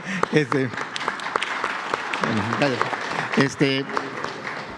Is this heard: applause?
yes